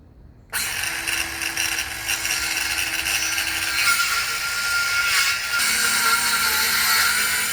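A hand saw or similar tool works through firewood being shaped into a cutting board, giving a steady, close rasping and grinding that runs continuously for several seconds after a short quiet start, with no talk.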